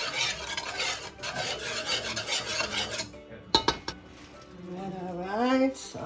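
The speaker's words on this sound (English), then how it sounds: "stir this up a little bit" Spanish yellow rice with pigeon peas is stirred in a pot, a spoon rasping and scraping against the metal in uneven strokes, with brief clinks and then a simmering bubble while someone talks intermittently.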